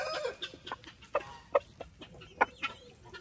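A farm sanctuary rooster clucks and murmurs contentedly while eating watermelon, making close, soft, irregular clucks with a few sharper chirps scattered over a few seconds.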